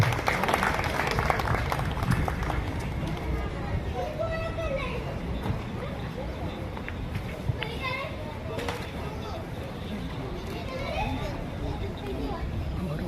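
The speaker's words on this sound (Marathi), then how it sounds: "सर्वांनी टाळ्या वाजवत आहेत." An audience at a felicitation ceremony for a BSF jawan in Fursungi claps in a sustained ripple of applause, mixed with children's voices and crowd chatter throughout.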